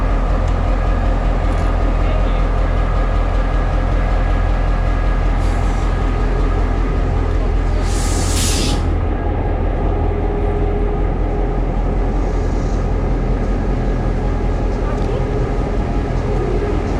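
A tourist train rolls past near Kuranda in the Australian rainforest, its steady rumble and clatter loud and continuous throughout, with a brief hiss of air midway and voices talking faintly over it.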